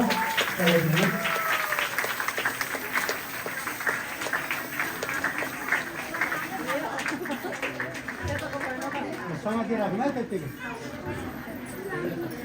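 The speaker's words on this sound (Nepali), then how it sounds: "हामी सबै ताली बजेर उहाँ लगाउनु हुँदैछ।" Wedding guests applaud during a Christian ring ceremony, a steady wash of clapping and crowd chatter lasting throughout, with a voice speaking over it.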